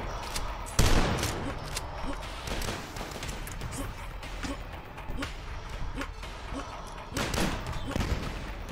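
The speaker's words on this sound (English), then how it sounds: "Oh wait, no, they're shooting at me for sure." Enemy gunfire in the first-person shooter Dusk, with scattered shots and thuds over a busy, continuous mix of game sounds, one sharp blast near the start and a louder burst toward the end.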